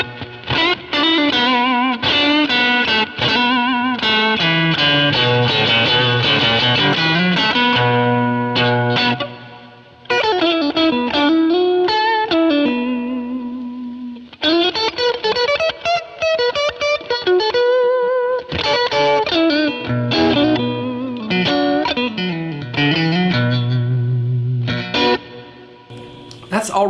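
Electric guitar through an Orange Getaway Driver distortion pedal voiced for classic 60s and 70s tones, playing gritty overdriven riffs and sustained chords, loud and continuous with no talking.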